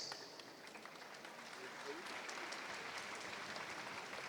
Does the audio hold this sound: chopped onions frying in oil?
no